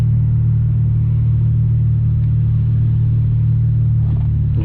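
A BMW 335xi with a six-speed manual, tuned past 600 horsepower, idles and revs in neutral before a launch, a steady loud low drone held throughout, heard from inside the car.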